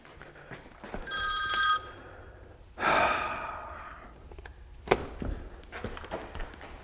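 A telephone ringing in a garage beside a VW Scirocco, two short electronic ring bursts close by, followed by breathing and rustling.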